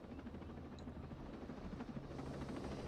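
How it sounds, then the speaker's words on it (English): A helicopter in the video game Ghost Recon Breakpoint, heard as a steady low rotor drone and engine hum, fairly faint and continuous with no talk over it. "That's a helicopter."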